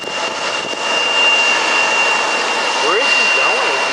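Loud, steady jet engine roar from an Embraer 175 airliner at an airport, a continuous whine and rumble with voices talking over it.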